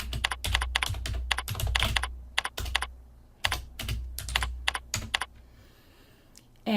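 Someone types an address into a tax-return form on a computer keyboard, with bursts of crisp keystrokes and uneven pauses, close and fairly quiet, ending in a short stretch of near silence.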